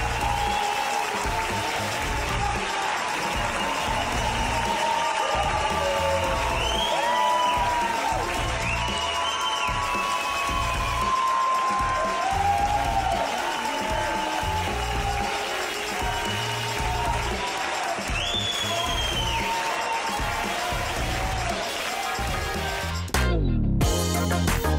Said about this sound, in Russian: на последнем спектакле полный зал и овации